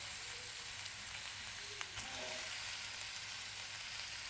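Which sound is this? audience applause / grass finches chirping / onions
onions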